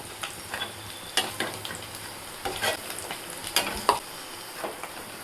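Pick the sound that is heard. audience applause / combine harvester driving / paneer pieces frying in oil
paneer pieces frying in oil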